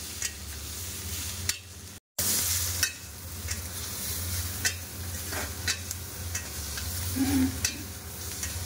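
Potatoes and green chillies fry in a pan with a constant loud sizzle, and a spoon stirs and scrapes at intervals. The sound cuts out for a moment, then the frying resumes.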